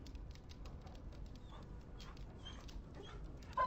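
Dog whimpering in the video game Dragon Age Origins, a soft, faint whine held low in the game's ambient background with no talk over it.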